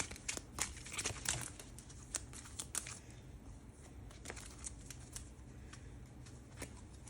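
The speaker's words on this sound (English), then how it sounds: "we'll go ahead and shuffle the ones for Baratheons as well" Cards for a tabletop miniatures wargame are shuffled by hand: quiet, close riffling and crisp snapping flicks in quick irregular bursts for several seconds, with no voices.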